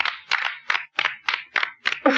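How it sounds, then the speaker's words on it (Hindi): Applause welcoming a new director at a mill gathering: bursts of hand clapping in about eight short, evenly spaced waves, fairly close and moderately loud, with no talk over them. "नए डायरेक्टर के स्वागत में तालियां"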